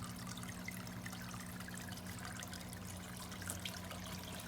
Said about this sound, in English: You see the siphon is working again.